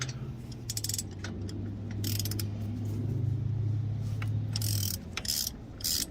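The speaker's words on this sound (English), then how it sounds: "on the back side you have those 7mm Allen bolts to crack loose" A ratchet wrench loosens 7mm Allen bolts on a Dodge Dakota brake caliper, with bursts of rapid clicking at the start and end around a steady low mechanical whir, close up and alone.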